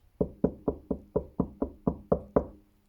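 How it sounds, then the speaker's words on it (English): Nine evenly spaced knocks rap on a wooden door at night in a steady rhythm, close and crisp with no voices. "Suddenly, Percy heard a tapping sound."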